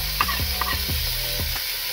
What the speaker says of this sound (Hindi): अच्छी तरह से इनको फ्राई कर लिया।